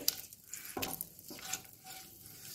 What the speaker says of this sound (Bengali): তেলের সাথে মিশিয়ে নেব